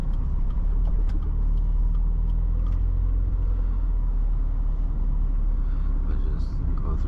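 A Mazda Miata drives past with a steady low engine rumble and road noise, heard from inside the car with faint chatter underneath.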